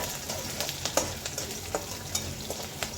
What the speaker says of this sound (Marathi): मिरची छानशी भाजून देऊयात, चांगली तळून देऊया.